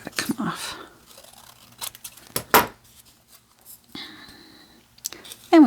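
Scissors snip through a paper cutout at a desk in a few short, close cuts separated by pauses, with faint murmuring in the background.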